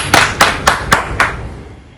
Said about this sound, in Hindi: खंडेलवाल युवक संघ की तरफ से जोरदार तालियों के साथ उनका स्वागत किया गया।